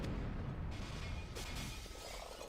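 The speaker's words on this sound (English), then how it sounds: "What was that huge explosion?" A huge explosion in the video game Ice Breaker booms heavily with a rumbling, crackling tail that slowly fades, heard alone without talk.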